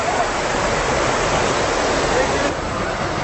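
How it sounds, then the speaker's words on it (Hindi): High waterfalls in a desolate mountain area, a dense unbroken roar of falling water, loud and close, filling the whole stretch without pause. "पहाड़ हैं, ऊंचे ऊंचे झरने हैं।"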